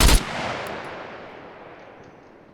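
A single loud rifle shot in the video game SCUM cracks close by, followed by a long echoing tail that fades away over two seconds, with no talk.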